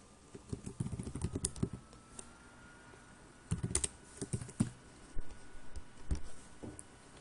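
Someone types a folder name on a computer keyboard in quick, soft bursts of keystrokes with short pauses, quiet and close.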